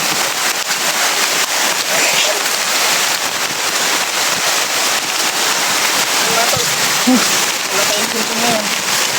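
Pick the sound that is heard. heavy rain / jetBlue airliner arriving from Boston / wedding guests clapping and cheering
heavy rain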